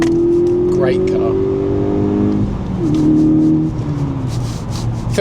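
A VW Golf R Mk6 driving, its engine and exhaust humming steadily as revs rise and drop with a gear change, with road noise underneath while someone talks over it.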